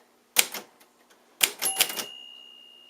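A 1954 Royal Quiet De Luxe manual typewriter being typed on in short bursts of sharp mechanical key strikes and clacks, close and crisp, with a ringing metallic tone lingering after the second burst.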